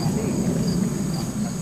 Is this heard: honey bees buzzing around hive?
yes